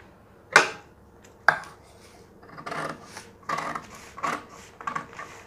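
Scissors snipping through fabric for a kurti, two sharp crisp cuts followed by a run of softer rhythmic snips close by, with no talking.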